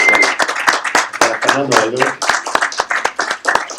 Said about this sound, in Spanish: Fuerte el aplauso para Salvador,